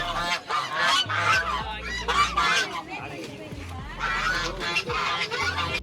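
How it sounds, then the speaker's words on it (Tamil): Several ducks at a market honk and quack in a noisy, overlapping chorus close by, with background voices and low hum running underneath. "ரெண்டு வாத்து வித்தியாசமாக இருக்குது என்ன வகை வாத்துன்னு தெரியல"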